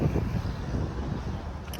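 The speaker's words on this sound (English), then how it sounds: "so windy and my contacts are drying up" Steady outdoor wind buffets the microphone in a low, continuous rumble, with faint car-like background noise and no clear speech.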